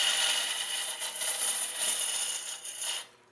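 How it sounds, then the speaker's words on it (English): A boring bar cutting waste wood from inside a woodturning hollow form on a lathe, a faint continuous scraping hiss with slight rhythmic pulses that stops abruptly at the end. "So you can get in here, cut some more of the waste wood out from behind."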